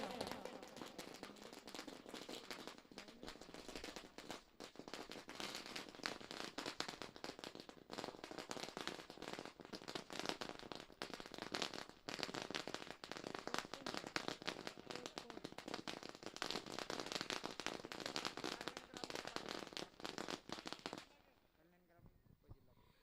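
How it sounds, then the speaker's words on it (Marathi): Firecrackers bursting at an outdoor village cricket tournament during a semi-final, a dense, continuous crackling barrage of loud pops with announcer speech over it, stopping abruptly near the end. "जरूर फटाक्यांच्या आतषबाजीनं आपण पाहतोय या स्पर्धेचे"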